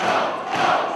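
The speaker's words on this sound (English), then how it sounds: "The crowd solidly behind Joe." Wrestling crowd cheering and roaring in support of Samoa Joe during his match against Morishima at a fifth-year festival event, a steady, dense wall of voices throughout with no distinct speech.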